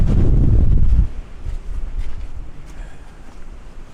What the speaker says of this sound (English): it's because of the amount of wind up here